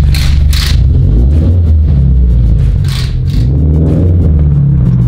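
A turbocharged Subaru BRZ drives along a road, its engine a loud, steady low rumble with rising and falling revs, and brief hissing bursts from the turbo, heard up close from inside the car.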